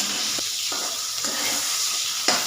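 Chopped onion sizzles in hot oil alongside frying eggplant, with five-spice seeds, dried chilli and bay leaf in the pan. The steady, close frying hiss is broken by a few sharp clinks of stirring.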